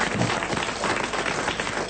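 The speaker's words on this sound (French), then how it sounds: "Sous les acclamations du public" A theatre audience applauds the return of a performer at the Olympia, producing a dense, steady wash of clapping with faint murmuring mixed in.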